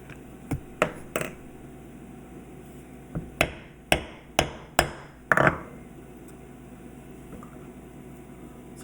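A leather stamping tool is struck repeatedly with a mallet while tooling a circular basket weave pattern, sharp close knocks coming singly and in quick runs of three to five, with quiet pauses between.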